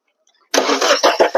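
A 2010 diesel Maruti Swift Dzire engine cranking to life with an abnormal noise, starting abruptly after a quiet moment and pulsing in rough, loud bursts at close range.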